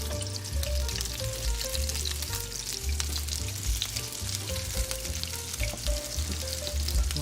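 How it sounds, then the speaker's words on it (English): Meatballs frying in a Ninja Foodi Never Stick non-stick pan, a steady dense sizzle and crackle filling the whole stretch, with faint scraping as they are turned over. "Yep, I'm gonna start turning these over."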